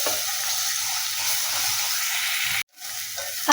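Ginger garlic paste sizzles and fries steadily in a hot pan beside curry leaves, onion and green chillies, a continuous close hiss broken by a brief pause near the end before the sizzle resumes.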